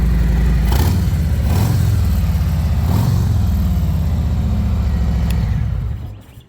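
A loud motorcycle engine rumbles steadily close by, rising in a few revs to about 2,000 RPM before dropping off at the end; no voices.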